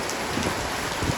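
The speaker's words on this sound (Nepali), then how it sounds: "पानी पऱ्यो" Steady rain hisses down on an outdoor fishing spot near Pokhara, a continuous soft wash of drops with no voices.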